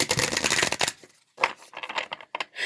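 Deck of playing cards shuffled for a tarot-style reading, giving a dense riffle followed by a few shorter, separate flutters of the cards, close and clear with no talking.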